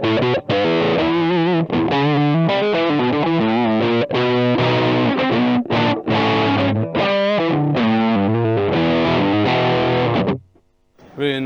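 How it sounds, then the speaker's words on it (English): Electric guitar played through a Vox Tone Bender fuzz pedal, giving a thick, distorted, mid-rangey tone as a continuous run of notes and chords, loud and close, before cutting off near the end. "And then we have the Vox Tone Bender."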